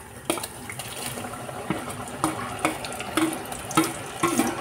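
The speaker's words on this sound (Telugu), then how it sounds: "ఆయిల్ వేసుకొని వేయించేసుకోవాలి" Sliced chips fry in hot oil with a soft, steady crackle and irregular pops and clinks, heard fairly faint and close with no talking.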